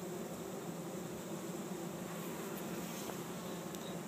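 A honey bee swarm being captured in Chico, California drones on in a steady, dense buzz, close and continuous throughout, with no voices.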